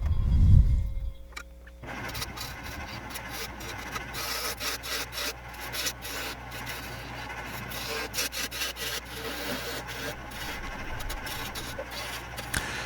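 Wood turned down on a lathe into a rounded curtain rod end with a 3/4 inch mounting section, a steady close scraping and grinding hum after a brief low thump at the start, continuous and fairly loud with no talk.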